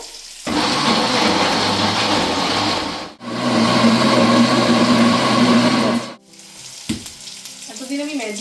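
A kitchen blender grinds fried onion and tomato into a smooth paste, whirring loudly in two continuous runs of about three seconds each with a brief pause between, then falling quiet.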